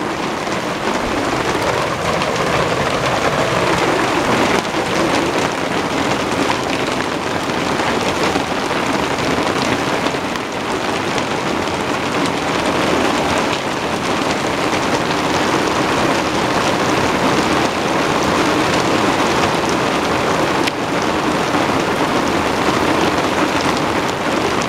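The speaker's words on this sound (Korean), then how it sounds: "뉴욕에 지금 우박이 내리고 있습니다" Large hailstones fall in New York in late April, making a dense, steady, continuous patter that sounds much like heavy rain on surfaces, with no voices.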